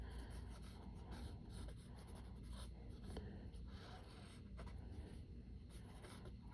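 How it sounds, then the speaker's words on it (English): Pencil sketching a fashion figure on paper, a steady close scratching and rubbing of graphite across the sheet with quick strokes running continuously throughout. "So I'm gonna go in and just draw my figure in pencil first really quickly"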